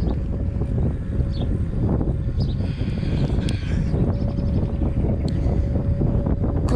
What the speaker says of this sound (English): Of course, we got the wind again.